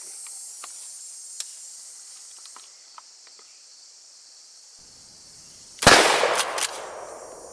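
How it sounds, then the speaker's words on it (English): A KelTec KSG 12-gauge shotgun fitted with a .675 reduction choke fires a single loud, sharp blast at close range outdoors. A brief decaying tail follows, set against a steady background of insect buzzing. "we're loaded up with the last shotgun choke now."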